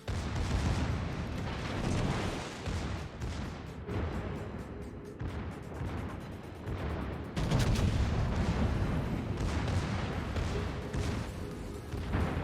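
Booming naval gunfire from a Tier IX German battleship, the Pommern, in World of Warships, a dense run of heavy salvos and explosions rolling continuously with a louder burst near the end, no voices.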